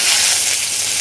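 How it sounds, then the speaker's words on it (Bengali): Onions fry in hot white cooking oil with a dense, loud, continuous sizzle heard up close and alone. "প্রথমে তেল দিয়ে দেব, সাদা তেল। পেঁয়াজ দিয়ে দেব"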